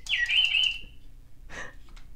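A battery-powered toy bird that moves its head gives a bright, warbling electronic chirp lasting under a second, then a shorter, fainter tweet after a pause.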